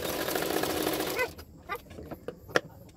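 A sewing machine runs a steady, rapid stitching whir along a blouse hook strip for about a second, then stops, leaving a few scattered clicks and taps of fabric handling nearby.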